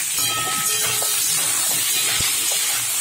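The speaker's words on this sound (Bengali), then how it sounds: "দিয়ে পটলটা লাল লাল করে ভেজে নেবো।" Pieces of pointed gourd (patol) frying in hot oil in a pan, a loud, steady sizzling hiss that carries on without pause, with faint clinks of a utensil.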